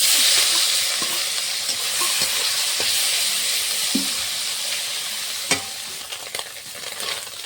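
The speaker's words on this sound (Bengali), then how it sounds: "মাছটা লাল লাল করে ভেজে নিয়েছি, এখন নামিয়ে নেব। বাকি মাছগুলো ভেজে নেব।" Small puti fish fry in a pan until reddish, giving a steady, close sizzle and hiss that runs throughout, with a few soft clicks of stirring and a sharper knock near the end.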